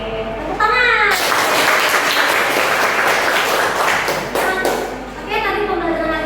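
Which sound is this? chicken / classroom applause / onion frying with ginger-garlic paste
classroom applause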